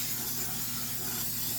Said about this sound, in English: the very first thing I am going to do is spray down this pan